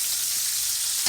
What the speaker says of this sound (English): Oh, the soothing sound of sizzling bacon.